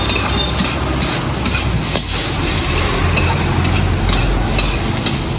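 Chow mein stir-fried live at a street food stall: loud, dense sizzling with constant scraping and tossing in the wok, busy and close, no talking over it.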